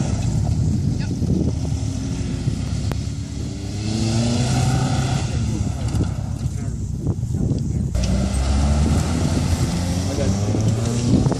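A car threads a motorkhana course around cones and corners, its engine droning and rising steadily up close, while a person speaks over the engine noise.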